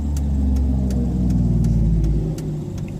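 A petrol car engine revving hard under acceleration, a loud, close, sustained drone that rises and then eases slightly near the end, with no voices.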